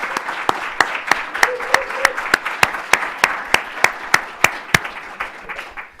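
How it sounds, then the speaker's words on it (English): Steady audience applause for workshop panelists, a dense wash of clapping with distinct individual claps standing out, fairly close and continuous throughout. "let's give them all one more last round of applause"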